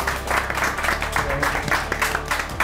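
A television cooking-show studio audience applauds the weekly winner, a steady burst of clapping that fills the room, with talk over it.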